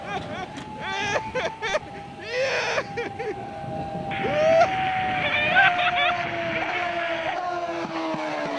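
Williams FW29 Formula One car on track at Silverstone, its engine note rising and sweeping through gear changes, heard moderately loud under radio-style talk.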